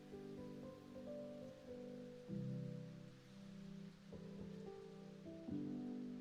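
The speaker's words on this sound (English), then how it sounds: "And then, because of course, it's raining." Steady rain patters on a surface as a quiet, continuous background, with no voices over it.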